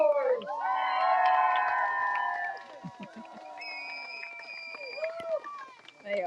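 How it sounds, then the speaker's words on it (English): A crowd cheers and whoops at Nelson's Dockyard in English Harbour as a rowing crew finishes a transatlantic race from Madeira, with loud sustained shouts at first that break into scattered calls and voices. "Let's give them a big applause and make some noise!"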